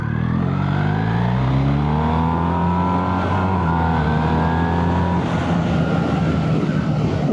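A 2026 BMW R1300R motorcycle engine pulls hard from a left turn, the revs rising steadily under 5,000 rpm with loud, continuous riding and wind noise.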